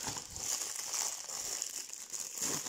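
Plastic packaging of a Warhammer Conquest magazine, issue 29, crinkles and rustles close up as it is opened, in a continuous, fairly quiet stream of crackling with no talking.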